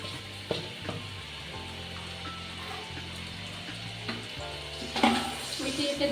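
Roasted mung dal sizzles in hot oil as it is stirred for a restaurant-style chicken khichuri. A continuous frying hiss runs with scraping stir strokes and a brief louder clatter of the spoon against the pot near the end.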